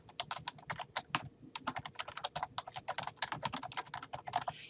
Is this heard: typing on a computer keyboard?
yes